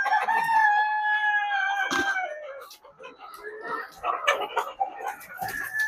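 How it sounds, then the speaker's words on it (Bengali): Chickens gather at feed hoppers on a poultry farm. A rooster gives a loud, close, drawn-out crow, followed by busy overlapping clucks and cackles from the flock. "এবার মুরগিগুলো আসবে আর এখান থেকে টুকরে টুকরে খাবে"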